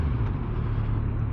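A 2024 Kawasaki Z900 motorcycle idles close by with a steady, smooth low rumble that holds even throughout, with no voices over it.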